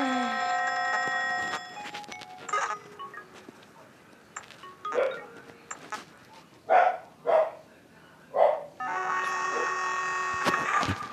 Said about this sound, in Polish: Pewnie psa słyszycie.